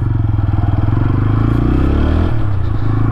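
A 2025 TVS Apache RTR 160 4V motorcycle idling and pulling away on an off-road trail, its engine and exhaust giving a loud, close, rapid thumping pulse that shifts as the bike moves off.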